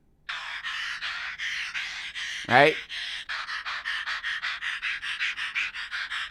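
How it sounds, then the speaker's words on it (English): Sampled female breathing is chopped into a rhythmic percussion pattern: a steady train of short, close, breathy pulses, broken once by a quick sweeping sound. "There was a section where she was breathing, and all I did was sample that and use it as a rhythm."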